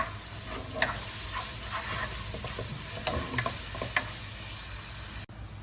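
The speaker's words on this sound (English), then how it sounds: "we'll add the green chili and ginger garlic paste and saute this also really well" Green chili and ginger garlic paste sizzle steadily in a hot pan for mutton korma, with a spatula scraping and clicking through the frying at irregular intervals, close and moderately loud.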